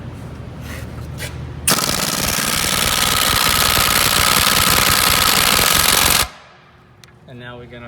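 An impact wrench zips off the outer tie rod nut on a 2008 Jeep Patriot in one loud, sustained burst of rapid hammering that lasts about four and a half seconds and then cuts off.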